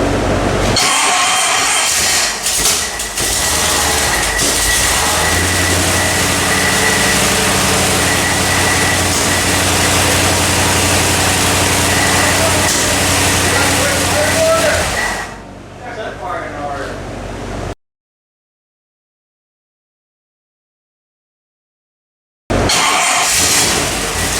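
A newly built car engine on a dyno with its firing order fixed, roaring loud and steady for about fifteen seconds, then cutting out into silence before sound returns, with talk mixed in.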